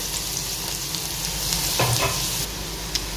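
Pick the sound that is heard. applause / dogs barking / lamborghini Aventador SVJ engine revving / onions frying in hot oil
onions frying in hot oil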